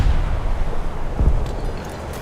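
USS Trenton deck guns fire in War Thunder, a deep booming blast rising midway through a low rumbling background, fairly loud, with no talk.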